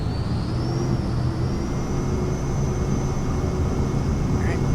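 A flight-simulator aircraft engine at takeoff power on departure from runway 35 left at Henderson Executive, Las Vegas, gives a loud, steady, close roar with a sustained high whine over it, unbroken throughout.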